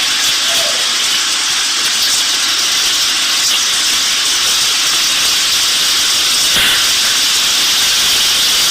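Cumin seeds hit a hot pan for a chickpea curry, giving a loud, steady, broadband hiss that holds unbroken throughout with no talking.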